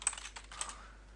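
A short, quiet flurry of keystrokes on a computer keyboard as a username and password are typed, a few light taps in quick succession.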